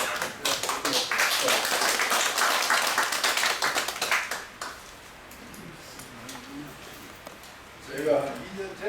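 An audience in a lecture room claps to welcome a lecturer, a dense burst of applause that stops after about four seconds, followed by quiet room sound and a brief voice near the end.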